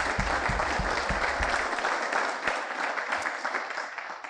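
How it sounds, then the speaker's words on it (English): An audience applauds a panel after an American Revolution discussion in Youngstown, a steady wash of clapping from many hands with a few low thumps early on, holding fairly loud for about four seconds before easing slightly. "Can we get a round of applause for them?"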